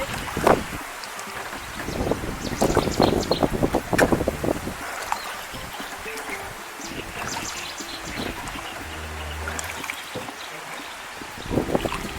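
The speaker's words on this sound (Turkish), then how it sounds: "Şu anda küreğin sesi, sazların sesi, kuş cıvıltıları, kurban sesi ve rüzgar." Oars dip and splash in lake water among reeds at an unhurried pace while wind buffets the microphone and rushes steadily in the background, near Gölyazı village, Bursa.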